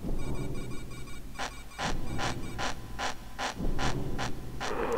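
Abe's barefoot footsteps in the video game Abe's Oddysee, a run of sharp, evenly spaced squeaky steps over a mechanical, rumbling game backdrop.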